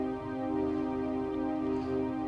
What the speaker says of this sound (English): this is the Waves Berserk distortion